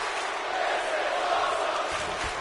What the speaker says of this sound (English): And the crowd is really getting into it here.